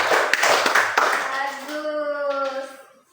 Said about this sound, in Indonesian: beri aplaus dulu untuk Anin